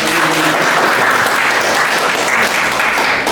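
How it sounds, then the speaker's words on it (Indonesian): Dense, loud applause from an audience at an academic lecture on spatial and non-spatial data, a steady wash of many hands clapping throughout with no talking. "Tepuk tangan dulu ya."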